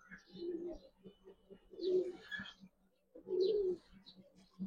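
Racing pigeons at a loft give three soft, rounded coos in a slow rhythm, close and fairly quiet, with faint rustling in the background.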